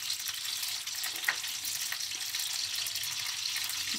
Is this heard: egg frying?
yes